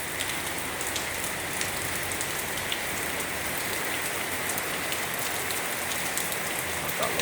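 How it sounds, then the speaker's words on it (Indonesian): Heavy rain pours down over Tangerang city, a dense, steady hiss of drops drumming on nearby surfaces, with scattered sharper spatters and no voices. "turun hujan di kota Tangerang"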